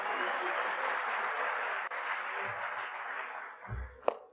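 Steady audience applause from a lecture crowd gradually thins and fades out, ending with a few scattered claps and a sharp knock near the end.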